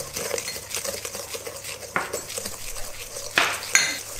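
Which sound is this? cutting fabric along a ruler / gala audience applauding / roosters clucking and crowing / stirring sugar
stirring sugar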